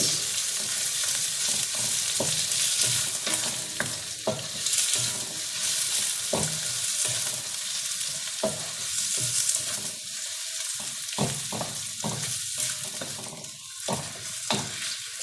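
Onions fry in a pan with a loud, continuous sizzle, broken by frequent sharp clicks and scrapes of a utensil stirring against the pan.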